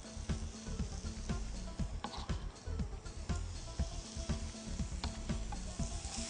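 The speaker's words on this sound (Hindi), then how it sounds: "अब लहसुन और प्याज को फ्राइंग पैन में डाल दें।" Garlic and onion sizzle steadily in hot olive oil in a frying pan, a dense continuous crackle with frequent sharp pops and occasional stirring clatter, close and fairly loud throughout.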